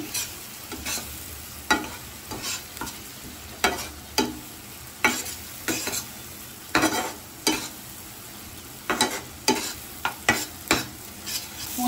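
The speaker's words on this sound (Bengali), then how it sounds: "পোস্তটা দিয়েও ভালোভাবে নাড়িয়ে নিচ্ছি" Poppy seed paste being stirred into frying onions and spices for an omelette korma, with repeated sharp scraping strokes of a spatula against the pan in an uneven rhythm over a steady low sizzle, close and clear.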